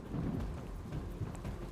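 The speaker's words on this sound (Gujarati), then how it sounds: "રાજ્યમાં આજે અનેક સ્થળોએ ભારે વરસાદ વરસ્યો" Heavy monsoon rain pours down in Gujarat with deep rolling thunder, a dense, steady roar of rain and low rumbles that swell and fade throughout, with no voices.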